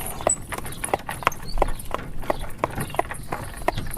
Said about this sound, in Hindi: वह उसकी घोड़ा गाड़ी में चल देता है।